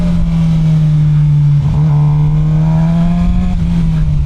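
A Suzuki GSX-R 600 sport motorcycle engine runs close by with a loud, steady droning hum. Its pitch dips and rises slightly midway.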